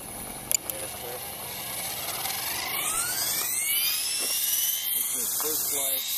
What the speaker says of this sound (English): First flight after rebuild from a flybar helicopter to a flybarless from a Trex.